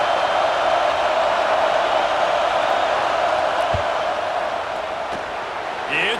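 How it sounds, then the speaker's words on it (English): Steady roar of a stadium crowd in the College Football 26 video game as the field goal unit lines up, a dense continuous wash of noise that stays loud throughout. "This crowd trying to do its part to get inside the kicker's head."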